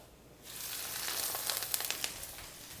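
Breaded chicken for chicken parmesan dropping into hot oil, a quiet moment before a sudden loud, hissing sizzle bursts up and holds steady with sharp crackling pops.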